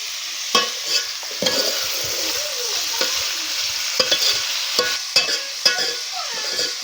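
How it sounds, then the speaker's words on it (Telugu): Eggplant curry bubbles and sizzles in hot oil in a pan, a steady frying hiss broken by repeated clinks and scrapes of a stirring spoon, close and loud with no talk. "ఇప్పుడే ఉడుకుతాంది నూనెల."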